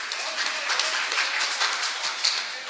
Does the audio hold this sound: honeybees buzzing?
no